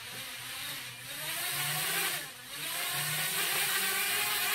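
Small HGLRC Rekon 3 FPV drone motors spin up and hold a steady high-pitched whine with a broad airy hiss, briefly dipping twice before settling, close by and fairly quiet, with no talk.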